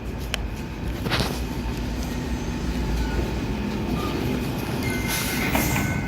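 A Docklands Light Railway B07 Stock train heading to Canary Wharf runs steadily, a loud continuous rumble with rhythmic clicks and faint squeals from the wheels, heard from on board.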